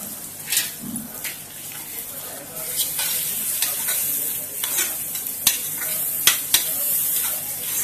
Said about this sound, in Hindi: तो टमाटर भी अच्छे से मिक्स हो चुका है।